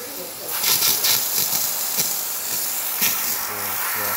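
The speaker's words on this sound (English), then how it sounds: "Let's test the steamer first." Steady loud hiss from the steam wand of a Rancilio Silvia espresso machine, a continuous rushing spray with slight surges, with a voice speaking briefly over it.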